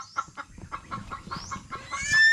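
Chickens clucking close by in a steady run of short, repeated calls, with several birds overlapping and one call rising louder near the end.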